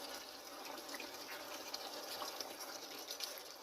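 Akidi (beans) porridge bubbling and splashing in a pot over heat, a steady wet gushing and spattering texture, moderately faint and continuous with small pops, no talk.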